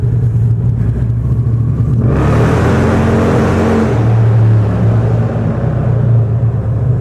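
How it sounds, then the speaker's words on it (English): Loud, close motorcycle engine revving hard during a rear tire burnout, a steady high-pitched roar with hissing tire spin that swells midway and then settles into a sustained drone. "Burning them rubbers if you got them, son."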